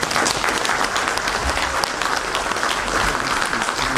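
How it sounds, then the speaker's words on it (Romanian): Steady, dense applause from a concert audience at a jubilee concert in Voloca, a loud continuous wash of many hands clapping at once throughout. "Să aplaudați, să susținem."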